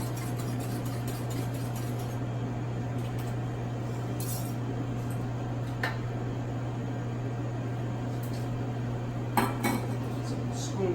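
Separated egg whites are whisked in a bowl for a consommé raft: faint, steady metallic clinking and scraping over a constant low kitchen hum, with no voices.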